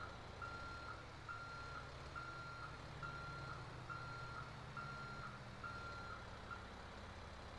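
A truck in GTA 5 backs a trailer in behind a building, its reversing alarm beeping steadily at an even rhythm over a low diesel engine drone, with no talking.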